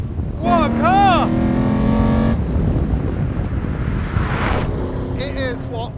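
Ariel Atom 4RR with a 525hp engine on a race track, loud revving passes that climb and fall in pitch, a drop in the middle and a second rise near the end, with no speech.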